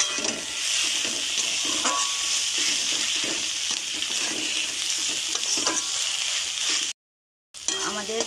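Tomato, onion and green chili sizzle and fry in a pan with cumin and Kashmiri chili powder while being stirred, a steady close hiss with scraping stirs throughout and a brief cut near the end.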